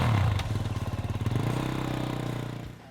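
A Kove 450 Rally motorcycle, a Chinese desert-racing machine, runs close by with a loud throbbing single-cylinder pulse that quickens and smooths out as it revs, then drops away at the end.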